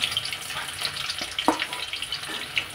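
Chopped garlic sizzling in hot oil, a continuous close crackling hiss with small scattered pops and spatters, steady and fairly loud with no voices over it.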